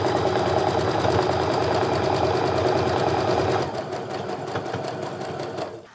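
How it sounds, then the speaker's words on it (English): A sewing machine stitches a quarter-inch quilt seam joining precut pieces, running at a steady fast rhythm that slows for the last couple of seconds before stopping. "I'm gonna sew my quarter inch seam and I should be coming out right at the point in between those two pieces"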